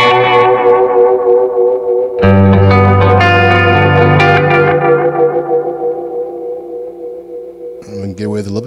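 Oil can delay effects pedal set near self-oscillation, with sustained guitar notes smearing into thick repeating echoes that build, swell and slowly decay, played loud and alone.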